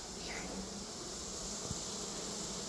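A steady buzz of honeybees at a flow hive during installation hums continuously in the background, fairly faint, with a brief low thump partway through.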